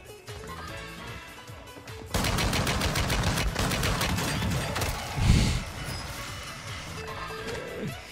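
Rapid bursts of gunfire in Call of Duty Warzone 2, a dense run of sharp, loud shots following an opening moment of lighter sound, with one heavy boom near the end.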